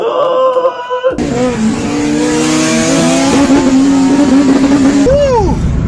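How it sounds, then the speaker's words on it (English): A 9th-generation Honda Civic Si engine revs hard and climbs sharply in pitch with an aggressive VTEC crossover, loud and close, then drops off as the throttle lifts. "You hear VTEC crack, but it's not as aggressive as it is on an 8th Gen."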